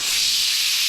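Sandpaper rubbed against an engine block sealing surface, producing a steady, close, hissing scrape for about a second with no pauses.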